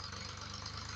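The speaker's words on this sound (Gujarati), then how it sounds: "શું આ ટ્રેક્ટર લાયા કોને યાર" A tractor engine idles with a steady, low, throbbing rumble. It holds an even level throughout and is moderately close. No one talks over it.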